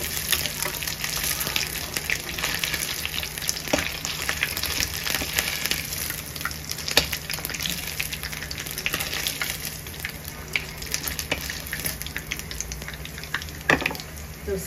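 Dry fish fries in hot oil in a home kitchen pan, giving a continuous, fairly quiet sizzle and crackle with scattered sharp pops and a low steady hum beneath.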